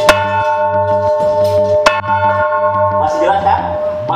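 A 278-year-old museum tower bell rings out loud and near, its repeated strikes leaving long sustained metallic tones that overlap, with some voices and handling noise toward the end.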